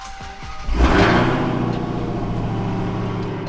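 A Dodge Hellcat's engine cranks and fires up, a short starter whir followed by a loud catch and a deep, rumbling idle that settles and holds steady, close by and with no talk over it.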